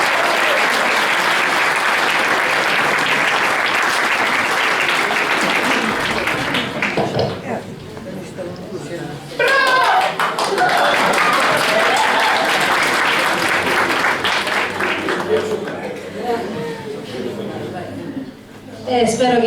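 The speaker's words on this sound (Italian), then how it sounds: "Quindi un applauso doppio per uno e per l'altro" A theatre audience claps heavily for a comic stage play, with a dense burst of applause that dips and swells again while a voice speaks over part of it.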